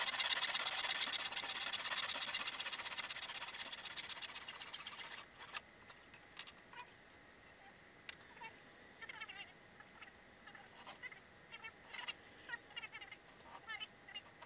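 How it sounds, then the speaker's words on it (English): A tenon saw cuts wooden pieces held on a bench hook, starting with a rapid, dense run of rasping strokes that cuts off abruptly, then only scattered light clicks and taps. "Now just to cut them using the bench hook and a tenon saw."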